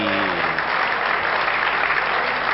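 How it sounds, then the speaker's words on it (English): Loud, dense applause from the crowd at a 1990 British Masters darts match, continuous and even throughout, with a brief tonal voice at the start before the clapping covers everything. "Well, let's get in the applause it deserves"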